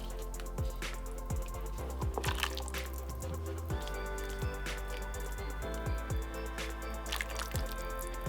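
Chicken broth is poured into a measuring cup in a home kitchen, giving close, irregular splashes and drips over a steady low hum for several seconds.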